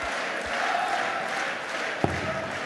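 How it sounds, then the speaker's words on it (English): A noisy crowd in a German darts arena, a dense, steady roar of many voices holding at a constant level, with a single sharp knock near the end. "you can hear the noise in this arena"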